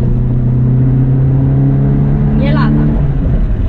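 Seat 850 Especial, a roughly 50-year-old small car with an 843 cc engine, revving steadily close by with a low droning hum, a rising whine near the end; a voice talks over it.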